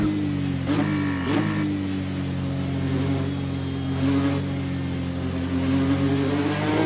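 A V6 Ford GT GTE race car engine in a racing game hums steadily at high revs, with pitch rising and falling as it shifts through gears, loud and close with no talking.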